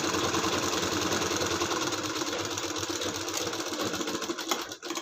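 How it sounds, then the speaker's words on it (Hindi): A sewing machine runs continuously while stitching a palazzo, a loud, fast mechanical whir and chatter that holds for about five seconds before slowing toward the end. "इसी टाइप से पूरे को सिलाई लगा देना है।"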